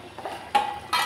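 A metal lid goes onto a cooking pot of spice masala, giving two short metallic clanks about half a second apart, close and fairly loud against a quiet background.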